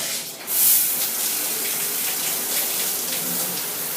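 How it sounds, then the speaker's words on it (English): A newly fitted shower head sprays a full, wide stream that reaches the back of the shower stall, giving a steady, loud hiss of water that runs without a break and with no voices. "A full spray, full wide coverage."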